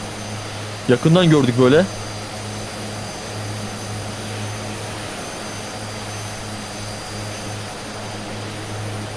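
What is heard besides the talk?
airplane flying past in a video game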